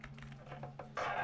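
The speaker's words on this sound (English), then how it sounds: "At least I know there's a noise with the clickety clacker." Rapid clicking of a clickety clacker in a video game, a quick run of light taps over a steady low hum, ending in a louder burst of dense clatter.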